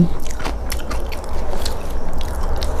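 Crunchy Thai pork rinds (khaep mu) bitten and chewed up close, a run of sharp crackling crunches and scraping bites over a couple of seconds, loud and with no talking.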